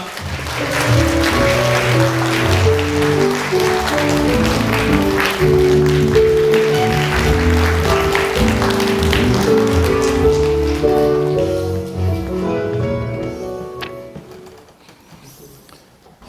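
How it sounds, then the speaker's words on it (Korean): Audience at a real estate exam strategy lecture applauds to welcome a civil law professor, steady dense clapping with musical tones underneath that fades out near the end. "우리 민법의 양민 교수님을 여러분 뜨거운 박수로 맞이해주시기 바랍니다."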